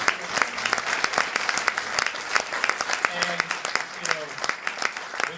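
An audience applauds at a GRAMMY Museum event celebrating drummer Buddy Rich, dense sustained clapping filling the room at steady loudness, with no spoken words.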